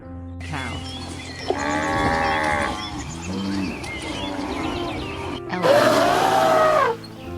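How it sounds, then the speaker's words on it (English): Cow mooing on a farm with livestock, sounding as a few long, loud bellowing calls with a drawn-out final moo that ends abruptly, heard alone without talk. "Cow."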